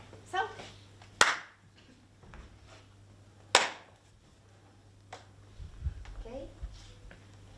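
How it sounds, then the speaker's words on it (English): Hands clap a few times in a practice session: a sharp clap near 1.2 seconds and another near 3.6 seconds, with softer taps and shuffling between, over a steady low hum. "So I'm going to clap."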